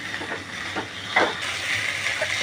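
Food fries in a pan with a steady sizzle and hiss, broken by a few brief louder bursts of spitting and scraping as it is moved around, nobody speaking.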